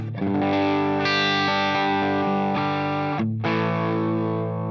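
Electric guitar chords ring out through a Line 6 Helix amp model with slight breakup, sustained and fairly loud, with a brief gap near the end before strumming resumes.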